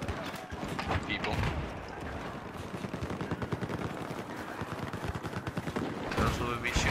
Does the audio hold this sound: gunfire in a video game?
yes